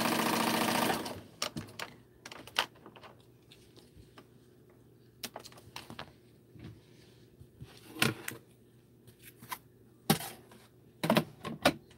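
A sewing machine runs in a quick burst at the start while stitching quilt seams, then gives way to scattered clicks and handling taps, quiet between.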